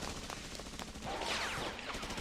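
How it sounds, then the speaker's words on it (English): Faint rapid gunfire crackles in the background of an anime scene, a dense muffled fusillade running continuously under other soundtrack noise. "We've got gunfire in the background."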